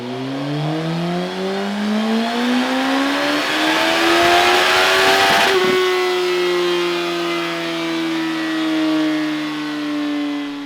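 A Suzuki GSX-S1000F motorcycle on its stock exhaust revs up in one long, loud rising sweep, then drops and settles into a steady high idle; close and alone.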